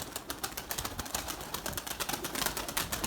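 White Erzurum breeding pigeons coo softly and repeatedly, close by, with faint rustling and a few chirps mixed in and no talking.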